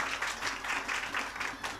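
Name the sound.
audience applause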